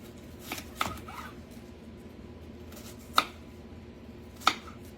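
Sharp knife strikes cutting chunks off an onion on a board in a farm kitchen, three or four crisp, close chops spaced apart over a low room hum.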